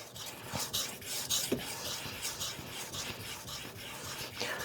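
A KN Knives Master Hunter knife is stroked forward and back across a whetstone, giving soft, rhythmic rasping passes at an even pace, close and fairly quiet.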